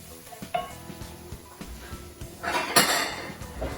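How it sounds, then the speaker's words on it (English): Herbs get a quick stir in a frying pan, a few utensil clinks and scrapes against the metal followed by a louder burst of sizzling toward the end, close and brief, without speech. "So put about half in here and just give them a quick stir"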